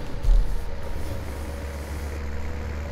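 A green tractor idles in Farming Simulator 19 on a farm track, a steady low engine rumble that holds close and even throughout with no talk over it.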